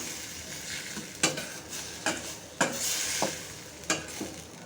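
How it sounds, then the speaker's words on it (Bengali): Egg with onion greens and green peas sautéing in a pan: a steady sizzle broken by several sharp spatula scrapes and knocks against the pan at an uneven pace, close and fairly loud, with no voices. "এখন এই পেঁয়াজ কালি দেওয়ার পরে আমি আর কিছুক্ষণ কষাবো"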